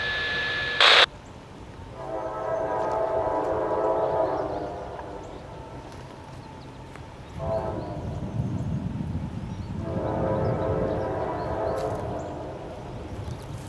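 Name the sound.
Norfolk Southern freight train passing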